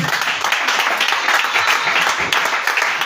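A church congregation applauds during a sermon, giving a steady, dense wash of clapping that holds at an even loudness for the whole stretch, with a faint murmur of voices underneath.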